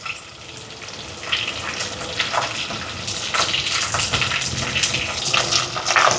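Small onions, dried chillies and garlic sautéing in a pan, a continuous close sizzle with scattered crackles and occasional stirring scrapes, no talk.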